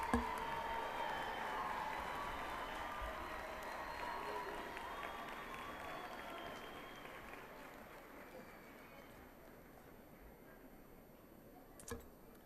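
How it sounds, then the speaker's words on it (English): Sustained applause from a large commencement audience fills the hall, steady at first and slowly thinning out toward the end, with a brief louder burst near the close. "Another round of applause, please"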